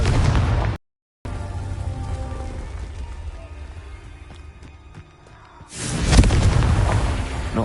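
Confringo, a fire spell cast in Hogwarts Legacy, erupts near the end as a loud, roaring burst of crackling flame. It follows a stretch of lower rumbling ambience and a brief dropout, with an earlier blast fading at the start.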